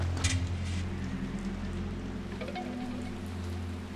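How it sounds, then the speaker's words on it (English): Soft, steady rain hiss over a low, droning ambient music bed in the video game Pikmin 3 Deluxe, with no voices. "it's raining today"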